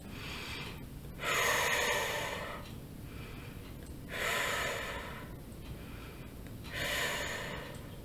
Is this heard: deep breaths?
yes